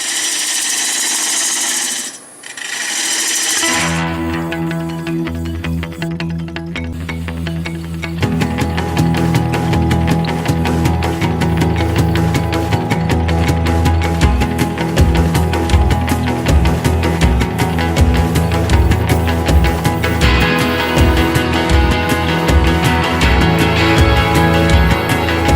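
A wood lathe spins an anacua wood bowl as the tool faces off the bottom, giving a loud, steady motorized whir with dense scraping chatter that thickens after a brief dip near the start.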